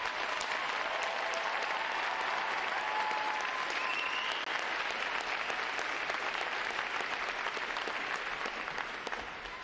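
A large crowd applauds steadily throughout a U.S. Navy recruit graduation ceremony at Great Lakes, Illinois, the clapping even, continuous and somewhat distant in a big open space.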